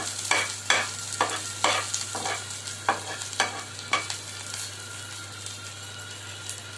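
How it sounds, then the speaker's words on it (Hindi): Onions sizzle in a hot pan for masoor dal while a spoon scrapes and stirs in irregular strokes, fairly close and moderately quiet. "और थोड़ा प्याज भून जाए तो तब जाकर हम लोग उसमें लहसुन देंगे।"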